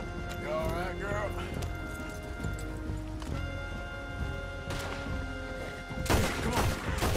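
Rhythmic hoofbeats of horses clip-clopping along in Red Dead Redemption 2, under game music and talk, growing busier and louder near the end.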